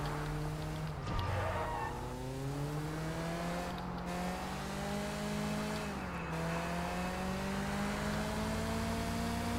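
A street race car in Sleeping Dogs, its engine droning and shifting pitch as it revs through gears, with a couple of brief tire squeals and bumps against a constant hum.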